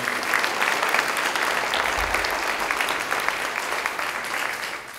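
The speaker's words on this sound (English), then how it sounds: "So this is the only round of applause we'll do." Applause from the audience at a press conference announcing a company's Series A funding, a dense, loud round of clapping that carries on evenly and tapers slightly toward the end.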